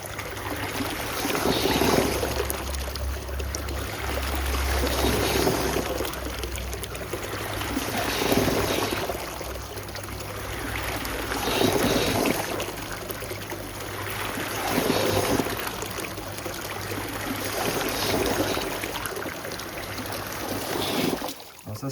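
A Canadian Spa Montréal hot tub runs its massage jets at high speed, a loud, continuous churning and bubbling of water with slow rhythmic surges, close by and without talk.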